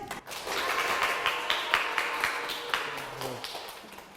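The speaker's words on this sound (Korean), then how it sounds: "박수 보내주시죠" An audience at a Korean talk on financial psychology applauds a guest coming on stage: a steady patter of many hands, moderately loud and sustained, with no voices over it.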